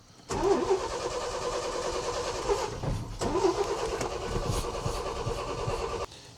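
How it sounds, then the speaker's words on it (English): A truck engine turns over and catches, then idles roughly, dips briefly, revs back up and keeps running before cutting off abruptly. "So I'm back in the truck, about to see if I can start it."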